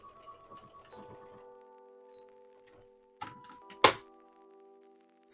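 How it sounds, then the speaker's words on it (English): A sharp metallic clank of scissors striking a sewing machine rings out once against a faint, steady mechanical hum, preceded by a smaller knock. "I hit the scissors on the machine."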